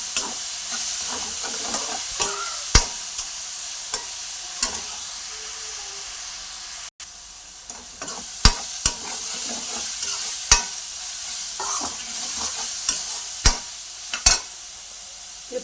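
A large onion, thinly sliced, frying in a pan: a continuous hissing sizzle with occasional sharp clicks and scrapes of stirring, steady and close throughout, no talking.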